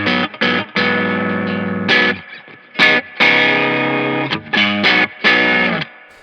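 Electric guitar run through a compressor and overdrive pedal on a rhythm setting, playing loud distorted chords in short stabs and sustained strums with abrupt stops between phrases.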